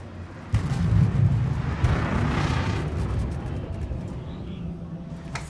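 A missile explosion in the space game Star Citizen: one sudden booming blast hits near the start, then rolls into a long, deep rumble that slowly fades.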